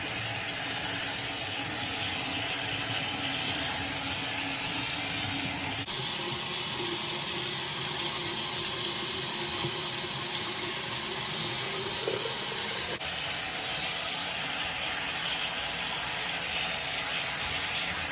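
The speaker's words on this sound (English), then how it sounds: "So I'm gonna wash my face with a zero foam cleanser." Tap water runs steadily into a sink while a face is washed with a foam cleanser, a constant close splashing rush with faint shifts as hands move under the stream.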